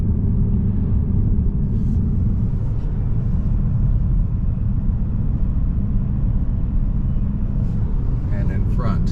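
A car driving along the road, picked up from a recorder mounted outside the vehicle, gives a loud, steady low rumble of engine and road noise, with faint higher sounds near the end.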